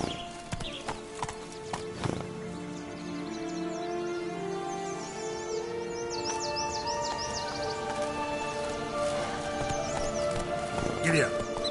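Horse hooves clip-clop steadily during a ride in The Witcher 3, joined by a neigh and faint birdsong, while someone talks over the rhythmic hoofbeats.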